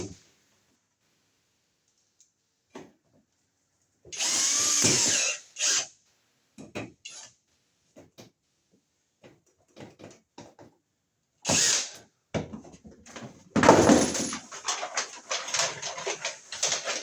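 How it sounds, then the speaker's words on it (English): Drill driving screws into an electrical box mounted on a wall, with short bursts of whirring and ratcheting separated by quiet gaps and scattered clicks, the last burst longest and loudest. "And we'll screw our box onto the wall."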